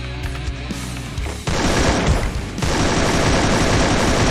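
Gunfire in the mobile shooter Free Fire during a ranked match: a few sparse shots, then dense continuous automatic bursts that are loud and close and fill the rest of the clip.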